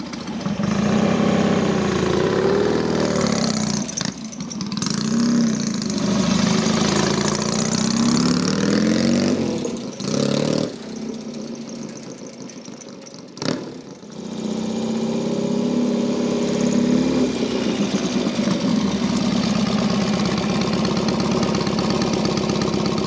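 A Norton P11 Ranger motorcycle engine runs continuously nearby as it rides up a drive, its pitch rising and falling as the throttle changes, with a few short drops in level along the way.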